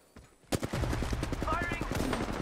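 Video game machine-gun fire breaks out after a quiet moment, turning into a loud, dense burst of rapid shots that keeps going, with voices talking underneath.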